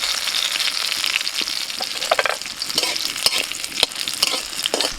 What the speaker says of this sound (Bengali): ফোড়ন ভাজা হয়ে গেছে